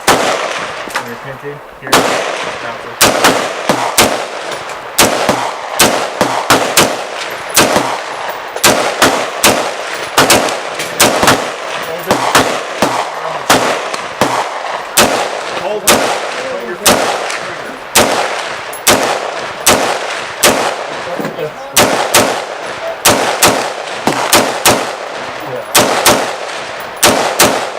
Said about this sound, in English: So let's go ahead and run some rounds through.